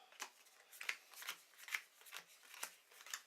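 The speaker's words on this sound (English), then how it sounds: "Shuffle his graveyard to his deck." Playing cards being shuffled during a tabletop session of the Dragonfire card game, a series of soft, rapid riffling and sliding bursts close to the microphone, repeating in an uneven rhythm with no talk.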